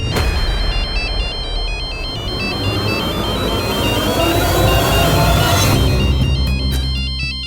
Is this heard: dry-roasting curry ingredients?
no